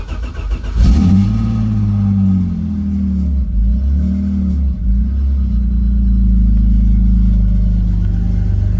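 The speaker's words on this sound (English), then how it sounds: "Let's start the car up." A drift car's engine cranks and fires into life, then settles into a loud, steady, low rumbling idle heard close up.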